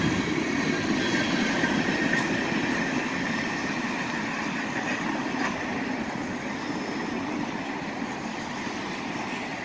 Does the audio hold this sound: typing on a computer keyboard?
no